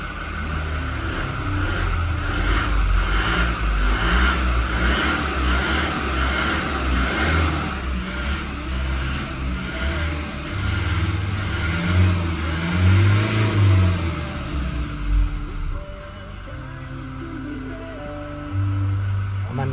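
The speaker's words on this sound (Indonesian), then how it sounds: "kita dengarkan suara dari ini ketika digas." A Toyota Innova Reborn 2.4 diesel engine revs repeatedly up close, loud and rough, then settles toward idle near the end.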